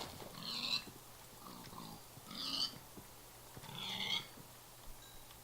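Pigs in the Minecraft video game oink three times at a steady spacing, each one a short, clear, nasal grunt over a quiet game background, with no talking.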